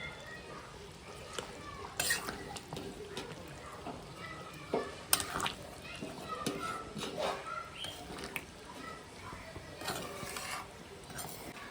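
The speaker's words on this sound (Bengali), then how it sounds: "তো এই যে গরম মশলা বাটা দিয়ে দিচ্ছি।" Garam masala paste fries in a pot of mutton curry, with repeated spoon scrapes and clinks against the pan over a soft sizzle, fairly quiet and close.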